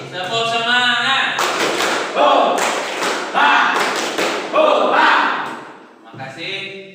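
A classroom of students performs the rhythmic spirit clap together, a loud group chant of voices mixed with sharp unison claps and thumps, repeating in bursts for several seconds before a short pause and a final shout.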